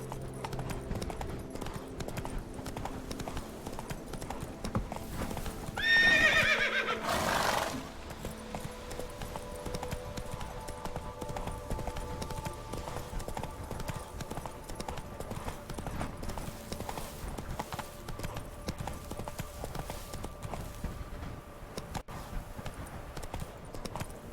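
Geralt's horse Roach from The Witcher 3: Blood and Wine, hooves clip-clopping steadily throughout at a moderate distance, with a brief louder whinny-like burst near the middle, amid ambient game sound.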